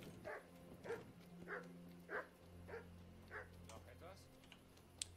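Dogs bark in the medieval game Kingdom Come: Deliverance, giving about eight evenly spaced barks in a steady rhythm at moderate distance over a low background hum.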